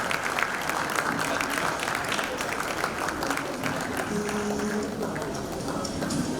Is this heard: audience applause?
yes